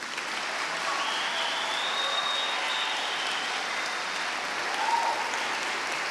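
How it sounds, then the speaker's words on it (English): A large audience at an all-county chorus concert claps steadily for the children, a dense, even wash of applause that holds for several seconds without voices. "you can give them a round of applause"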